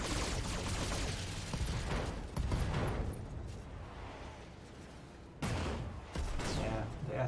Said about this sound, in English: I hope that this salvo will be enough